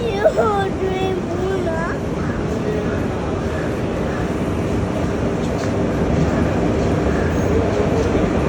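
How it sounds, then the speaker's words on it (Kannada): The Ernad Express train (16606) rumbles steadily into a station, with a brief high squeal near the start and people talking close by throughout. "ಬಂತು ನಮ್ಮ ಟ್ರೈನ್"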